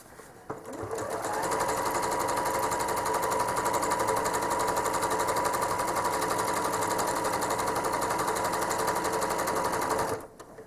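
A home sewing machine runs steadily while machine quilting stitches on a quilt. The motor whirs close and loud in one unbroken run of about nine seconds, with no voices.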